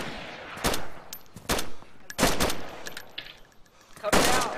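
Gunfire in the video game DayZ, aimed at a hacker up on a hill: several sharp, loud shots spaced irregularly across a few seconds, including a quick double burst, over faint background noise.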